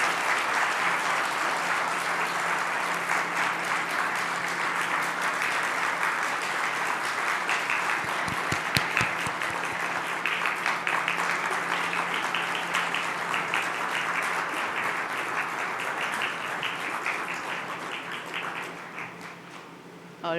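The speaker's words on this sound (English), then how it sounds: "can you join me in a small applause for my mom?" An audience at a security conference keynote applauds warmly and continuously, a soft, even roar of clapping that gradually tapers toward the end.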